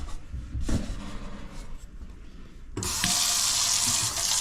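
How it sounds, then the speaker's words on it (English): Water from a faucet runs into a sink during a plumbing check, starting as a low trickle and then opening into a strong, steady hiss of flow. "let's run the water"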